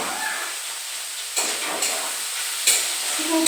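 Chicken pieces frying in a pan for chicken chow mein, a steady close sizzle with a few louder bursts as the pieces are stirred and turned.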